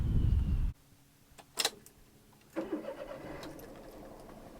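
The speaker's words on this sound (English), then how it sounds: "It starts right up." A Perodua Viva with an 850cc three-cylinder engine and five-speed manual cranks briefly and fires up, then settles into a light, close idle.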